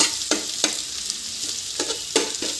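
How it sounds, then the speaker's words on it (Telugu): Onions frying in a pan until reddish, a constant sizzling hiss punctuated by several sharp stirring scrapes, close up with no voices. "ఉల్లిగడ్డలు మంచిగా వేయించుకోవాలండి ఎర్రగా"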